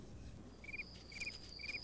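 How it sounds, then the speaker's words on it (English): Male crickets chirp in short, evenly spaced bursts, about three in quick succession, over a soft, steady background hiss; the calls are fairly faint and there is no talking. "Much of the chirping you hear when mating season begins is males arguing with other males"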